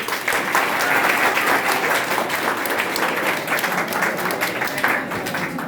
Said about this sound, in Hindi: एक बार आप पुनः ताली बजाएंगे